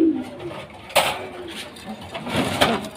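German Dalbar pigeons cooing in a loft, soft low repeated coos near and far with occasional wing flutters and light rustling.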